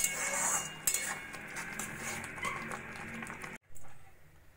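Oats khichdi being stirred in a cooking pot, the spoon clinking and scraping against the metal in a steady close-up rhythm, with a brief pause before the stirring resumes.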